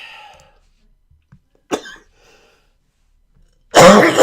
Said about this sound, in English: You're going to be coughing too much.